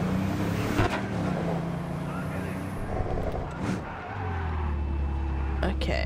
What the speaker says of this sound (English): The noises that this car's making is just like, what?